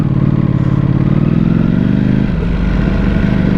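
Ducati Panigale V4S engine running loud and close, a dense throbbing rumble that holds steady then drops pitch slightly as revs fall, with some mechanical clatter and no talking.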